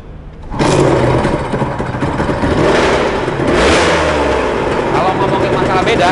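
A motorcycle engine with a dry clutch starts abruptly and then revs loudly and steadily, its rough roar swelling and easing for several seconds up close.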